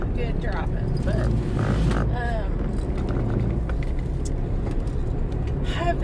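A car cruising along a highway on a long drive toward Kentucky, giving a constant loud road and engine rumble heard from inside the cabin while someone talks throughout.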